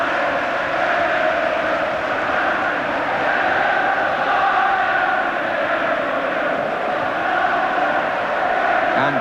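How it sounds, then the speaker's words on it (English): Dense, steady roar of a large football crowd inside Wembley Stadium during the 1990 FA Cup Final replay between Manchester United and Crystal Palace, a continuous broad wash of massed voices with no pauses. "terrific crowd noise at the moment inside Wembley"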